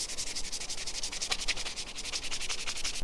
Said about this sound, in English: You just sand it a little bit if you go too dark